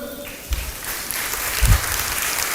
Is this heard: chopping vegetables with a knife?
no